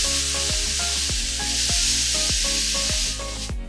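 A hot frying pan set down on a damp towel to cool while making chocolate mille crepes gives a loud, steady steam sizzle with a series of clanking knocks as it settles.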